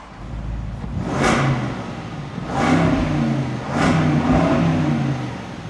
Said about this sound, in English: Like I still love this supercharged V8